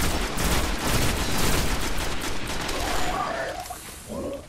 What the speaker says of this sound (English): I'm over here shooting at him, Sergio.